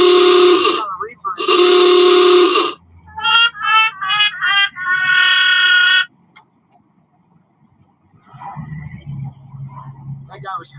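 Truck horns at a freedom convoy protest blare in long, loud blasts, then a run of rapid staccato honks, before fading to quiet with a low engine rumble and a voice near the end.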